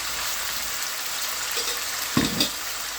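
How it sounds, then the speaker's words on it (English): Chicken frying in a pan while preparing healthy food, giving a steady broadband sizzle throughout, with a couple of brief louder stirring or spatter bursts near the end; no voices. "so we're frying off the chicken there now."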